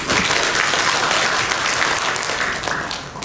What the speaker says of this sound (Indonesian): Kita tepuk tangan dulu buat UMKM.